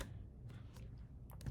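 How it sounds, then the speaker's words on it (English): A computer keyboard shortcut, Command D, is pressed during photo-editing work, giving a few faint, quick key clicks in a quiet room. "Command D on my keyboard."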